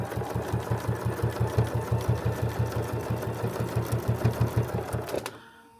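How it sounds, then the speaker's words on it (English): A sewing machine stitches a quilted potholder made from jelly roll strips in a fast, even run of close mechanical thumps, then stops abruptly near the end, with no voices. "we're just going to finish sewing till we get to the end"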